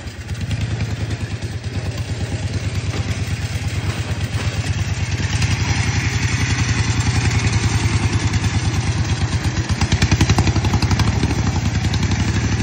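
A small motorcycle-type engine runs steadily at a fast idle, its rapid thumping pulse laced with a continuous metallic clatter and rattle from an aftermarket pulley mounted too close to the frame, loud and close with no talking.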